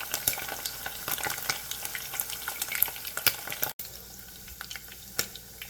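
Breakfast sausage links sizzle and crackle steadily in a frying pan, with scraping and clicking as tongs or a fork turn them; a brief word is spoken partway through.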